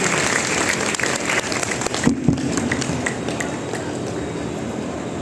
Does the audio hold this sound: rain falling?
no